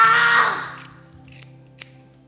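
Scissors cut hair at close range in a short crisp snip, followed by fainter clicks as the blades close again, over a low steady hum.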